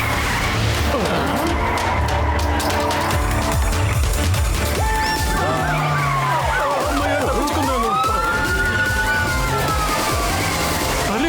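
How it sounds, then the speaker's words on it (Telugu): A cartoon police siren wails with rising and falling tones over loud roaring engines and screeching tires, the whole scene dense and intense. "అది పోలీసుల సైరన్ లా ఉంది."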